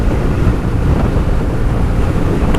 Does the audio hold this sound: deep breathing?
no